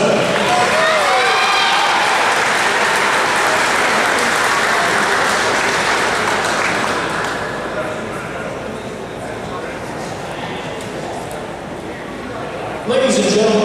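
Sustained applause from a crowd honoring a Sports Hall of Fame inductee at an induction ceremony, loud and dense at first, then easing slightly before a brief swell near the end.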